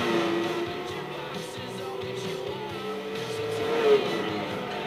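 A 1996 Corvette Grand Sport races in Gran Turismo 4, its engine droning steadily as it accelerates out of a turn and shifts into fourth gear, with rising pitch and a brief tire squeal near the end.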